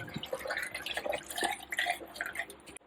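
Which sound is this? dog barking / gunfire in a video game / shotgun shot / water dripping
water dripping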